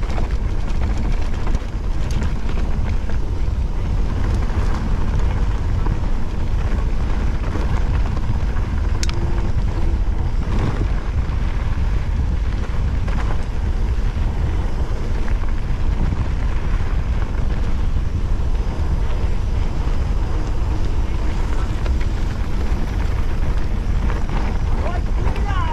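Mountain bike descending a moorland pack horse trail in Northumberland, heard as continuous rough rolling and rattling over the ground with heavy wind buffeting the microphone throughout.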